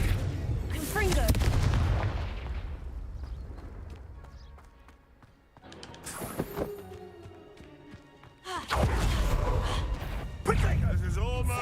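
Fire spell blasts in the Hogwarts Legacy video game: loud booming explosive bursts with crackling debris, separated by a quieter stretch, with game voices and chatter over the action.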